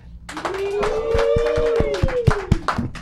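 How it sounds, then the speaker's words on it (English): A few people give a minor round of applause in a small studio, a handful of sharp, separate claps heard over a drawn-out vocal tone and talk. "A minor applause"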